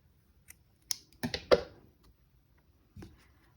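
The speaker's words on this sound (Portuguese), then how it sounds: "Cortar o fio." Scissors snip through yarn while finishing an amigurumi crochet piece, a few close, quiet clicks and short cuts clustered together, followed by a softer handling sound after a pause.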